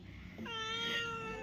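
A pet house cat gives a drawn-out, rising meow, fairly faint and alone in a quiet home, with no talk over it.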